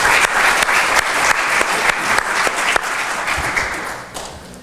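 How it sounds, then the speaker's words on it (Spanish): Steady audience applause at a formal technical presentation on thickened and filtered tailings deposits, a dense wash of many hands clapping at fairly even loudness before fading toward the end. "Un fuerte aplauso, por favor"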